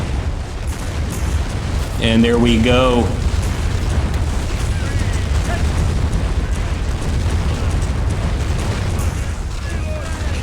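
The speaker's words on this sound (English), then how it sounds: "Great to see that cannon still firing, man." A cannon fires in a Crimean War strategy game set at the Battle of Sevastopol, loaded by a Cossack crew. Heavy booming shots rumble loudly beneath steady battle noise while someone talks over them.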